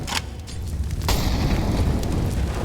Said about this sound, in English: Airstrike not quite looking like a Moab here